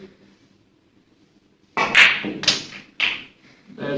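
On a snooker table, a cushion red is played: a sharp cue-on-ball knock is followed by quick clacks of balls and cushion contacts, fairly close and crisp, after a quiet lead-in.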